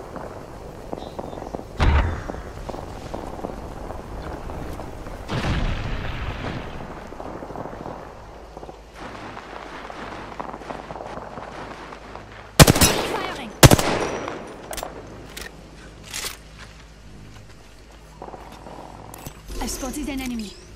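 Video game gunfire from the battle royale shooter Apex Legends ranked play, scattered shots and short bursts that include a loud cluster near the middle, mixed with game voice lines and callouts.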